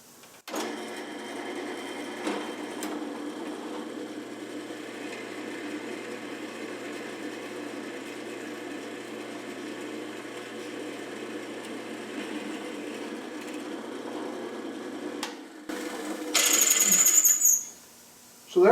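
A drill press bores through a clamped metal piece with a steady motor drone and cutting whine for about fifteen seconds, then a brief louder burst before it stops.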